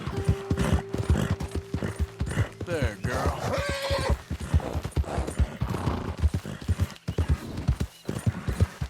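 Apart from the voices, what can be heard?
horse hooves and whinnying in video game Red Dead Redemption 2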